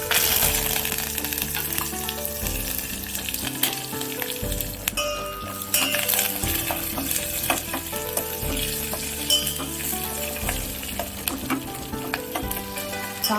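Dried red chillies fry in oil as a tempering for tender tamarind-leaf dal, a loud continuous sizzle and crackle with clinking stirring strokes running through it.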